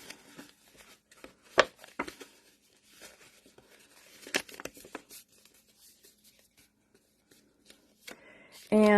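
Pre-scored cardstock for a handmade card is folded by hand, giving soft crinkles, taps and paper rustles with quiet pauses between them, close up.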